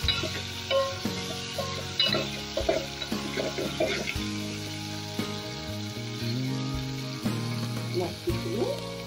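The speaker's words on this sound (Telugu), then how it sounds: "ఇప్పుడు ఉల్లిపాయలు వేసుకోవాలండి. ఉల్లిపాయలు కొంచెం వేగాలండి" Onions sizzle and fry in a pan, with steady crackling over a continuous hum, tonal background music and occasional clinks of utensils throughout.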